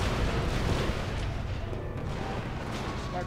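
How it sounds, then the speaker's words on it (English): A large explosion in Star Wars Battlefront 2 rumbles as a dense, loud, sustained boom with battle noise, no voices. "That was a quite a big explosion."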